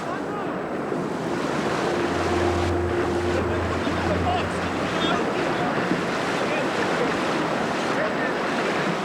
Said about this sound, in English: Water continues to pour into the cabin